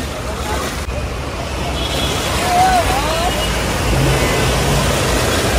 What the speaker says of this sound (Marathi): तिकडून गाड्या वगैरे प्रेशरने ढकलत आहेत पाणी।